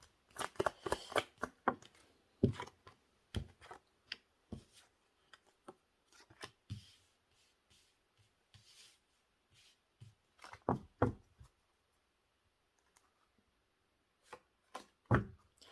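Tarot cards shuffled and dealt in quick, crisp riffling bursts, with pauses between handfuls and close, dry card slaps and flicks, alone without any voice.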